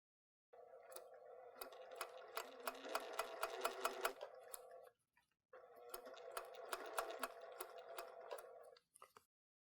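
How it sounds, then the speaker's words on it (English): A sewing machine stitches the inside seams of a quilt in two steady runs of rapid, ticking needle strokes, separated by a short pause, close up with no voices. "now we're going to sew the inside seams"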